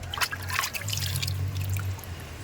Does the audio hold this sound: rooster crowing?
no